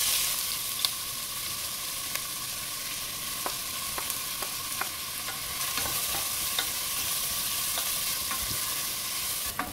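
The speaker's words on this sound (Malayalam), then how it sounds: "വെളിച്ചെണ്ണ ചൂടായിട്ടുണ്ട്, അതിലേക്ക് ഈ സവാള ചേർത്ത് കൊടുക്കാം." Sliced onion sizzles in about three tablespoons of hot coconut oil, a steady, close, bright hiss broken by occasional clicks of stirring, with no voices.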